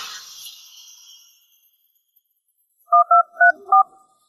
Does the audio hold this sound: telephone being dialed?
yes